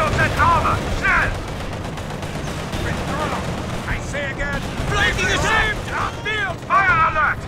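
Gunfire rattles almost continuously through the Company of Heroes 2 battle on the Essen Steelworks map, heavy bursts and distant explosive thuds mixed with shouted soldier voices.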